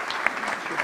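An audience at a financial symposium gives a brief burst of steady clapping to welcome a speaker.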